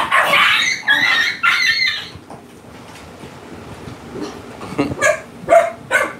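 Several dogs bark and yip in loud, close bursts, pausing in the middle before another cluster of sharp barks near the end.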